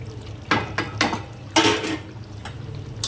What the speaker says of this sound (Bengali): এবার এটা দিয়ে কষতে থাকবো